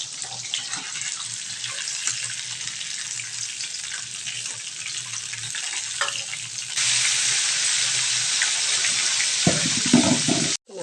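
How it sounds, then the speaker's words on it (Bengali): Bata fish frying in hot oil, a steady broadband sizzle that jumps louder partway through and carries on close by, with a brief clatter near the end and no talking. "মাছগুলো সব ভাজা হয়ে গেছে"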